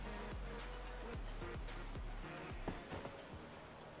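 A video game waterfall in a village-building scene gives a steady broadband rush of water, loud and continuous throughout, with a few brief higher tones and knocks over it and no talk.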